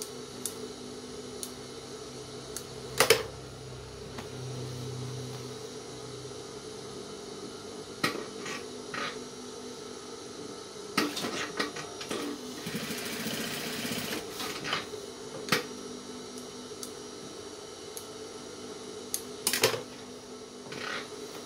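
Quiet, intermittent sewing machine stitching along the lower edge of a men's trouser waistband, with short bursts and clicks between pauses in a workroom.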